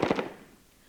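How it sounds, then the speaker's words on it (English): A Minimi rapid-fire machine gun is test-fired on a firing range, giving a quick cluster of two or three sharp cracks that fade into a short echoing tail. "The Minimi is a rapid-fire machine gun"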